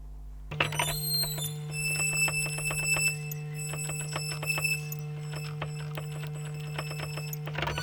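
A single waveform on a Yamaha MODX/Montage synthesizer plays alone: a steady tone with a sustained low hum and bright ticking, alarm-like pulses repeating rhythmically over several seconds.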